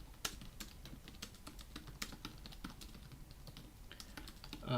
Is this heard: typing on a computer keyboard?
yes